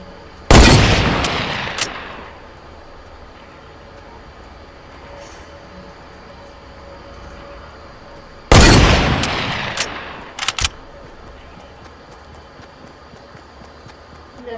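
Hunting rifle shots in the video game Fortnite: two loud, sharp cracks about eight seconds apart, each trailing off in a rolling echo, with a few quieter snaps after the second shot over a low ambient background.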